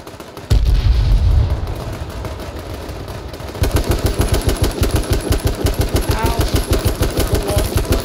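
Gunfire and explosions in the video game H1Z1 King of the Kill: a heavy blast, then a long run of rapid, evenly spaced loud shots, with a player's voice briefly heard.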